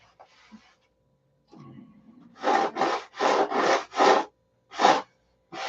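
Coarse 36 grit sandpaper rubbed by hand on a SIG Magnum wooden stock, heard as six loud rasping back-and-forth strokes in quick succession after some quieter handling, close and with no talking.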